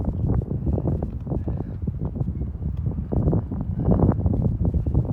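Strong gusty wind on the Grimsel Pass in the Swiss Alps buffets the microphone in continuous rumbling bursts, loud and close, with no other sounds standing out.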